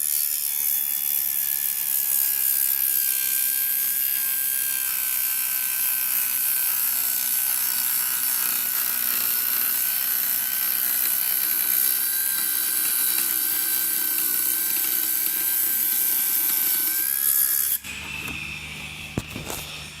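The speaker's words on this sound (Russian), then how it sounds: "Так, и остается у нас оргстекло. Давайте попробуем кусочек тоже отрезать." A small ALLSOME table-top circular saw cuts through plexiglass with a loud, steady high-pitched whine and grinding buzz that runs unbroken for about eighteen seconds before stopping abruptly, leaving faint clicks and handling noise.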